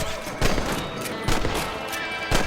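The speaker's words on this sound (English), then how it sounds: "Nice shooting!" Rifle shots in Red Dead Redemption on PS4, three sharp cracks spaced about a second apart over a steady background bed of game ambience.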